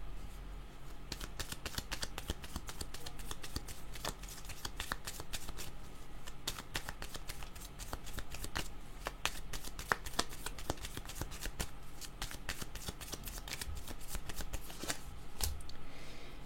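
Playing cards shuffle steadily up close and fairly quiet, a continuous riffling patter of soft flicks and snaps running throughout.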